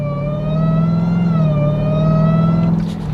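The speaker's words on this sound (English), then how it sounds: "God, I love the way the supercharger sounds, by the way." A supercharged Dodge Durango Hellcat engine pulls hard under acceleration, a steady loud whining drone with a rising tone that eases off near the end.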